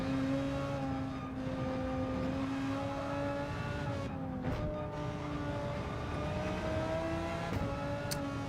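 An Audi R8 race car in Gran Turismo 7 at Suzuka holds a steady, loud engine drone with a sustained tone, shifting slightly in pitch, with faint tire noise and a brief dip midway, no talking.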